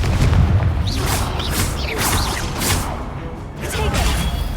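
Blasting spell bursts in a Hogwarts Legacy fight, a series of booming impacts and whooshing magical swishes repeating every second or so over a dense, rumbling low-end bed of combat noise.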